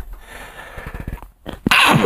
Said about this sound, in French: je viens de vous éternuer d'en face